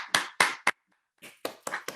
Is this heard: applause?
yes